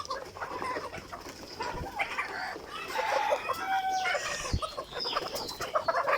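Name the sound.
chickens clucking, mature Egyptian Fayoumi hens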